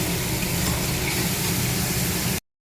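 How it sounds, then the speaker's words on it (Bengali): Spice masala with potatoes sautéing in a pan, a steady dense sizzle with stirring throughout, cutting off abruptly near the end. "একটু কষিয়ে দেই, ভালো করে একটুখানি কষাবো"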